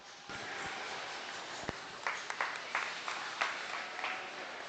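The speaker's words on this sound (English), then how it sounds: "Congratulate these guys with a big round of applause" Applause from a crowd honoring winners at a junior market lamb show at the Kentucky State Fair, a steady patter of clapping with a few sharper bursts, moderately distant in a large hall.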